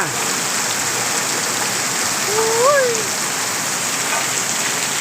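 Steady, dense rain pouring down, a continuous hiss close by, with a faint bird call rising briefly in the middle.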